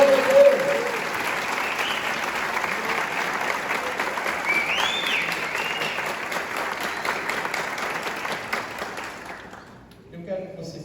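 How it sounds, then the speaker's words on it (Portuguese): A church congregation at a couples conference breaks into sustained, dense applause, with a voice speaking over it before the clapping fades out near the end. "Você pode aplaudir ao Senhor?"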